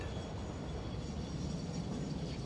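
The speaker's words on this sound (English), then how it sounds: "Okay, we gotta wait for that train." A train rolling past in the factory-building video game Satisfactory, a steady, dense mechanical rumble that holds close and loud throughout with no pauses.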